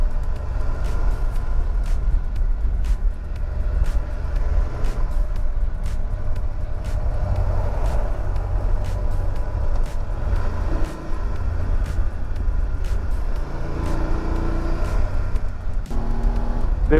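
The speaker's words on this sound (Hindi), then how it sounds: "इतना स्लो में चला रहा हूँ ऐसे 70-80 की स्पीड पे यहाँ पे, तब भी मेरे को काफ़ी विंड नॉइस लग रही है" Steady, loud wind roar and low road rumble riding a BMW F850 GSA motorcycle at about 70-80 km/h with the visor open and windshield lowered, continuous throughout with no pauses.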